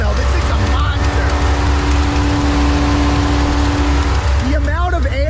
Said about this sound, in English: Listen to this fan though, this thing's a monster.